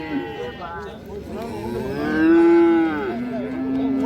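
Young bull calves at a livestock market low with drawn-out moos close by, a long bellow swelling in the middle, over a busy market murmur.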